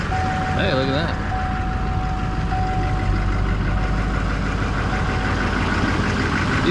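A Duramax truck engine runs at a steady idle after a starter motor repair, a loud diesel rumble with a brief whine and a thin tone, and people talking over it.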